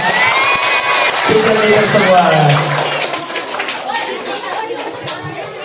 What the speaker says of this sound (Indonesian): Tepuk tangan dong temannya.